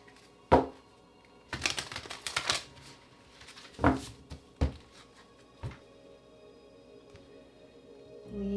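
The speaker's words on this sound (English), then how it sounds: "Let's get one more shuffle." A deck of tarot cards is shuffled in bursts of riffling and tapping, a few sharp card snaps followed by a longer flurry, close and fairly quiet, with no voices.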